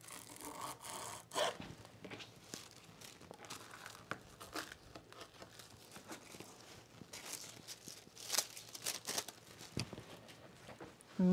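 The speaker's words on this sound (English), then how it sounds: "Can you tell how hard this fabric is to cut?" Scissors cutting through stiff blazer fabric up close, a steady run of rough crunching, rasping snips and rubbing with occasional louder cuts.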